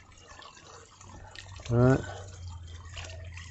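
Waste water, mostly plain water, poured out onto dry Nevada ground into a small depression, making a faint steady trickle beneath a brief spoken phrase.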